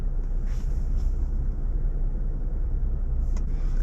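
A Jeep Gladiator fitted with a Bestop Sunrider top sits idling, giving off a steady low rumble with a few faint higher ticks over it and no voices.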